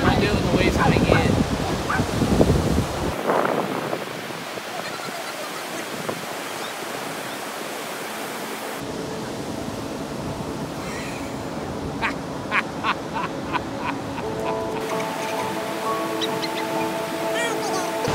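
Ocean waves wash onto a sandy beach with a steady, close roar of surf, while people talk and laugh over the rolling water.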